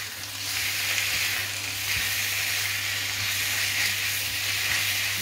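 Loud, steady sizzling of chicken frying in a hot pan, a continuous close hiss with occasional small pops and stirring.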